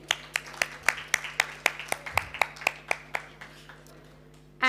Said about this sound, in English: can we please give a round of applause to Sheraton for the amazing food this evening?